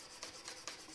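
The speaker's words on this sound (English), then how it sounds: "just take some 600 grit sandpaper to start with" Fine 600 grit sandpaper rubbed over a violin fingerboard to strip built-up rosin, a steady close scratchy rasp with a few louder back-and-forth strokes, no voices.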